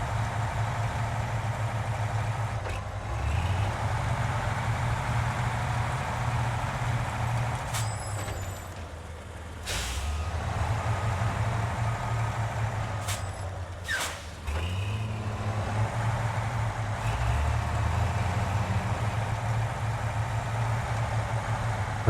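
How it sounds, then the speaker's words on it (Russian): A heavy off-road truck engine in the snowy mud-driving game SnowRunner, equipped with a near-top-tier motor, all-wheel drive and an off-road gearbox, drones in a deep steady rumble, broken by several sharp air-brake hisses and brief pauses as the revs dip. "Обожаю звук. Звук мотора."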